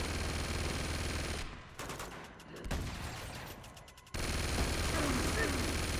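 Rapid automatic gunfire aimed at Guardians in the video game Uncharted 2: Among Thieves, with dense bursts of shots that break off briefly and then resume amid the combat noise of the game.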